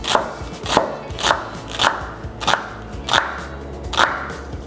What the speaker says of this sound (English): just gonna slice up a nice red onion